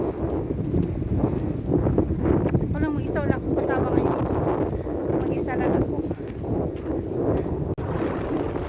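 Strong wind near Dolphin Bay buffets the microphone in a loud, steady rumbling roar that lasts throughout, with a person talking over it the whole time.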